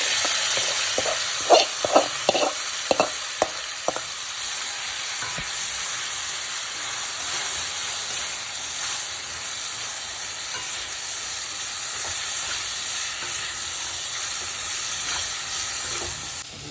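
Mixed vegetables frying in oil for veg dum biryani: a few sharp scraping stirs of a spoon against the pan come first, then a continuous, even sizzle carries on alone.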